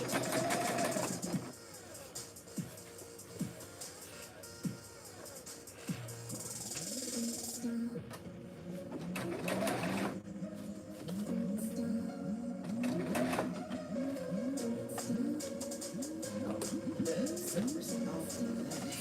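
A sewing machine stitches a quarter-inch seam on a bag, bursts of rapid mechanical whirring broken by pauses, with someone talking over parts of it.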